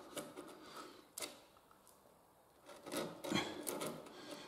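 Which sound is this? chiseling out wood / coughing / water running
chiseling out wood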